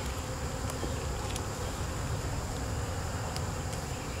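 Honey bees buzz at a hive in a dense, continuous drone, close and steady, with a few individual bees zipping past.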